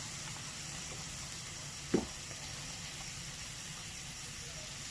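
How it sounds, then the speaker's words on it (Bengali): New potatoes fry in a pan with a steady, even hiss throughout, broken once by a single soft knock. "হালকা করে ভেজে নেবো 2 পিঠ"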